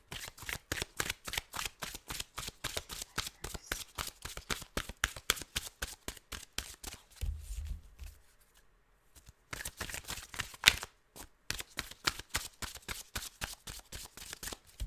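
Playing cards are riffled and bridged in rapid rhythmic bursts, close up, pausing briefly midway with a soft thump before the shuffling resumes.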